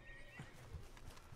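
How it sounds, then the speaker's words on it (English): A horse in the open-world western game Red Dead Redemption II gives a short whinny, with a few soft hoof clops in quieter in-game ambience. "Is that my horse?"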